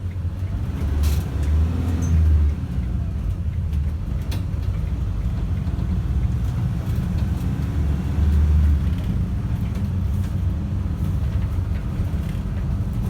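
A bus runs the P1 route out of Bristol toward Felton, heard from inside as a loud, constant engine rumble and road drone with a few swells, steady throughout, no talk.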